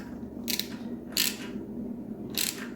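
Three short bursts of ratchet clicking from a wrench snugging the 12 mm and 14 mm engine bracket bolts on a 1.8 Miata engine being rebuilt, close and crisp with quiet pauses between pulls.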